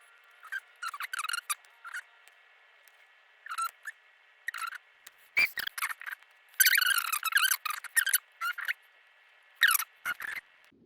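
Seam ripper tearing out serged stitching along a garment dart, a run of small, sharp snipping and pulling bursts, close and fairly soft, with brief pauses between tugs and no talk.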